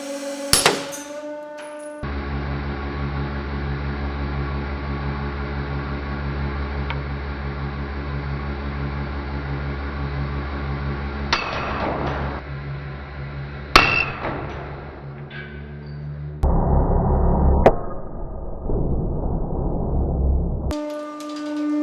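A 150-ton hydraulic press drives a stabbing tool into aluminium: a steady loud mechanical hum with sharp metallic clangs and bangs partway through, then a heavier rushing burst near the end.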